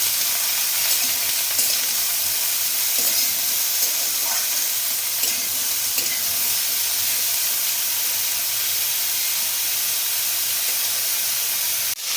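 Ridge gourd and potatoes sauté in hot oil in a pan, giving a steady, loud, continuous sizzle and hiss with faint stirring scrapes throughout and no voices.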